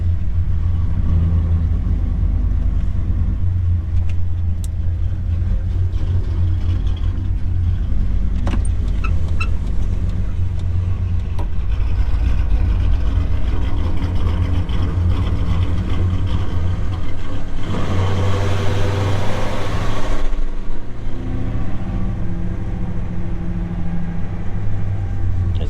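1984 Ford F-150 pickup with a 450 HP engine out on a test drive after a brake booster and master cylinder replacement, its engine a loud, steady low rumble throughout with road and cabin noise and a brief surge of hiss near the end.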